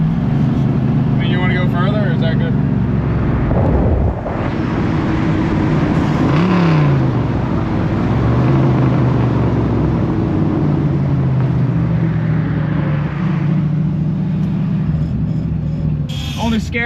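A 1968 Ford Mustang engine runs at a loud, steady idle with a couple of brief rises in pitch as it revs, while people talk close by over the engine.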